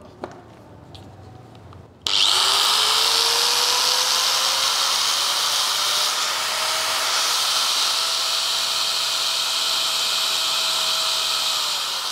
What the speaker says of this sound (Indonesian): Sekarang kita coba gerinda. Ini 750 watt.